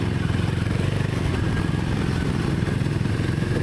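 Royal Enfield Himalayan motorcycles on a group forest ride, with other Enfields such as the Himalayan 450, Shotgun, Interceptor and Standard among them, give a steady, dense rumble of several engines running together throughout, loud and close with no talk.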